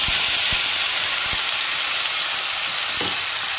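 Spice paste sizzles and fries steadily in a hot pan for a Bengali jackfruit and prawn curry, a loud continuous hiss broken by a few soft knocks of stirring.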